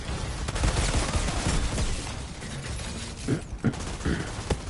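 A machine gun fires in an Outriders demo, bursts of sharp, rapid gunfire crackling near and loud amid chaotic combat noise, with the shots spiking in clusters toward the end.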